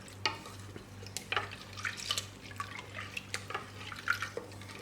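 Semiya payasam with milk being stirred in a pot, giving faint, soft liquid swishes and light scraping clicks at an uneven pace over a low steady hum.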